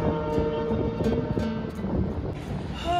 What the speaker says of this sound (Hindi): जा रही है ट्रेन।